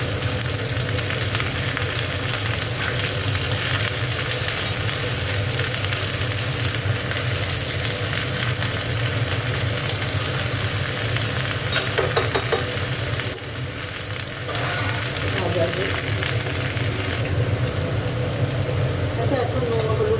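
Onion stalks and boiled potato frying together in a pan while being stirred, a loud continuous close sizzle with scraping stirs that dips briefly near the end before picking up again.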